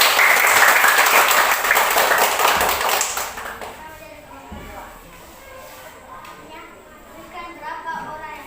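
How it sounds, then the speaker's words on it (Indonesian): Classroom applause for a student group after their presentation, loud and dense clapping for about three seconds that fades out, followed by quieter room noise and scattered taps. "Tepuk tangan buat kelompok 2"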